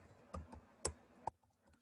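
Close, light keystrokes on a computer keyboard come in a few irregular taps, one or two sharper clicks standing out, with no talking.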